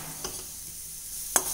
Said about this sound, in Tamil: இப்போ இது நல்லா மொறு மொறுன்னு வந்துடணுங்க இந்த பூண்டு.